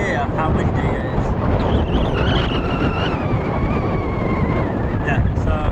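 Constant loud wind rumble battering the microphone at Sotavento beach, Fuerteventura, steady throughout, with a voice partly buried in the roar.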